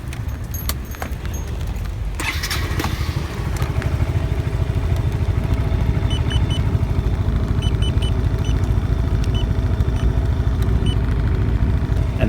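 A Tricity scooter engine idles steadily at close range with a fast, even putter, a few clicks and rattles near the start, holding a constant rhythm throughout.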